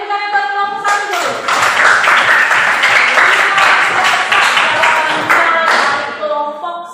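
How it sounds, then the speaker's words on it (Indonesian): A classroom full of students applauding for group 1, loud dense clapping that swells quickly, holds for several seconds and tapers off, with voices mixed in at the start and finish. "tepuk tangan buat kelompok 1 dulu"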